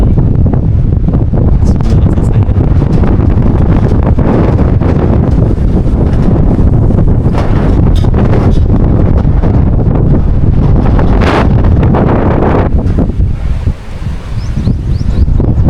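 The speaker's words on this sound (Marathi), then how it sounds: "प्रचंड असं वारा आपल्याला या ठिकाणी जाणवत आहे" Strong, continuous wind roars and buffets loudly throughout on the hilltop fort of Pargad, with gusty surges and rumbling low noise, and no voices.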